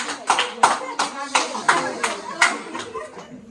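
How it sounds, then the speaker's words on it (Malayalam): A small group claps hands in an irregular, lively rhythm at a wedding eve celebration, with sharp close claps mixed with voices talking and calling out underneath. "കയ്യടിക്കടാ, കയ്യടിക്കടാ."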